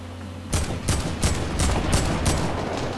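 Repeated AK rifle gunfire in the Fortnite battle royale video game, six sharp loud bursts spaced roughly every third of a second over a steady background hum, with no voices.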